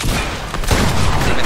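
Gunfire in a video game: a dense, continuous volley of shots at close range, loud throughout with one heavier burst partway through and no talking over it.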